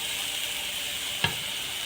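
Bitter gourd hits hot coconut oil and gives a steady bright sizzle throughout, with a brief soft clack of a utensil partway through and no voices.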